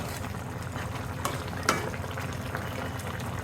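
Baila fish cooks in a pan with a continuous low bubbling sizzle. A couple of brief sharper pops or taps break through near the middle, and no one speaks.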